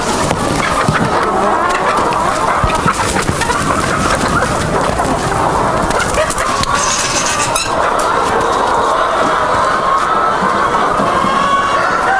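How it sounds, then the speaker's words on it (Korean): Chickens in a coop on a natural-farming operation fed fermented feed, a dense, steady clamour of many birds clucking and calling close by, continuous throughout with no talk. "닭장을 한번 가보겠습니다."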